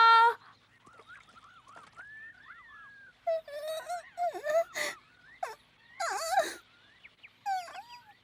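Squawks, honks and wailing cries from a bird in a Jungle Book cartoon, loud and close, in several bursts separated by short pauses, with no speech.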